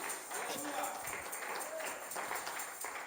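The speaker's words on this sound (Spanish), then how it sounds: "Denle ese aplauso a Jesús." A church congregation applauding during a Spanish-language sermon, broad clapping that swells and fades, mixed with voices.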